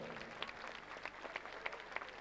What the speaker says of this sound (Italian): io chiedo un applauso innanzitutto al protagonista di questo gruppo